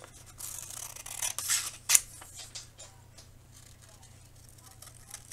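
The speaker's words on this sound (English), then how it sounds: "cut this circle out." Scissors snip through paper while a circle is cut out for a pencil rocket: a few close, crisp cuts and rustles, one sharp snip standing out, then quieter handling of the paper.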